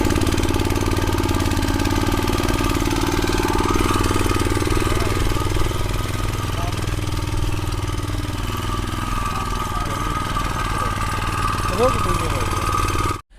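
A small handmade tractor engine runs close by with a rapid rattling chug, steady for the whole stretch before cutting off abruptly at the end, with a person talking over it.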